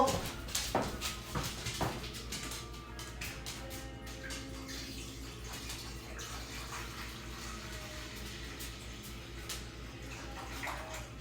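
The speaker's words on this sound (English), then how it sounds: "I gotta fill up their water bowl" Tap water runs steadily into a dogs' water bowl indoors, a continuous moderate splash with a few knocks early on and a dog faintly audible nearby.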